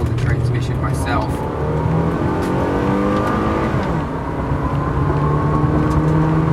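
Engine of a 2010 Toyota Corolla S pulling through gears under manual transmission control, revs rising and falling in a steady interior drone with shifting harmonic pitch, close and continuous, with faint talk underneath.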